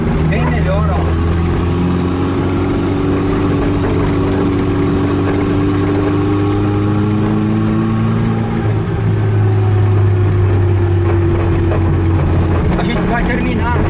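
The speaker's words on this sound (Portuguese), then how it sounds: "Vai terminar de esquentar o motor para perceber se a marcha lenta dele, com ele bem quente, ela vai se sustentar" A car engine idles as it warms up, a loud, steady low rumble that holds through the whole stretch while someone talks over it.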